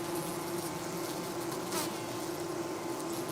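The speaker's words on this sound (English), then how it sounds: "The first bees to land release a pheromone that guides the others in." A swarm of bees buzzes steadily in a dense, continuous drone, clustering together in a mass under a hot sun, with no voices over the hum.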